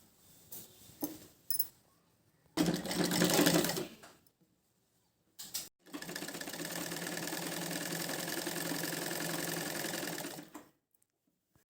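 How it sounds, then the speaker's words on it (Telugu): Sewing machine stitching a girl's lehenga blouse, running in two short bursts and then one long steady run of about five seconds, close and clear, with no talk. "ఇప్పుడు స్టిచ్చింగ్ చేసుకోండి."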